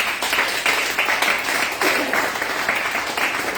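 A church congregation claps steadily, a dense continuous patter of many hands at an even loudness throughout, with voices faintly mixed in underneath.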